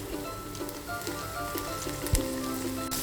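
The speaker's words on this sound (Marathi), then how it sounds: "टॅमॅटो चांगला परतून घ्यायचा" Chopped onion and tomato sautéing in a pan produce a continuous soft sizzle with occasional utensil clinks and one sharp knock, alongside faint background music.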